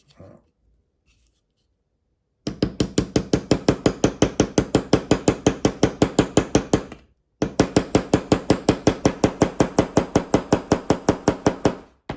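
Rapid light hammer taps on a rivet set peen a rivet in a knife handle. Two quick, even bursts of sharp clicks come after a quiet start, close and crisp, with a short pause between the bursts.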